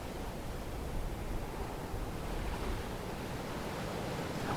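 Steady, soft ocean waves washing continuously, a broad even rushing hiss with no distinct breaks, calm and unbroken throughout.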